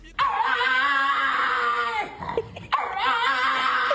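A pug dog in Washington, D.C. lets out a loud, sustained, wavering scream that breaks off briefly near the middle, then resumes just as strongly, close and alone.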